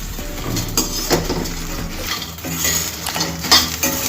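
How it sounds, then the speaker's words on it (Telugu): Fried cauliflower pieces for restaurant-style gobi 65 are gently tossed in a pan with garlic and curry leaves. The pan sizzles steadily, with soft clinks and scrapes of a utensil spread through the mix. No one speaks. "మనము ఈ వేయించుకున్న కాలీఫ్లవర్ ముక్కలు కూడా ఇందులో వేసేసుకోవాలి. వేసుకొని ఒక్కసారి ఇలా మెల్లగా టాస్ చేసుకోవాలి."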